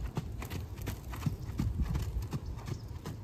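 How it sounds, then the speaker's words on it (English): A horse trotting with a big, stretchy stride, giving steady rhythmic hoof beats on ground, close and moderately loud, alone without speech. "she has a nice, big, stretchy trot"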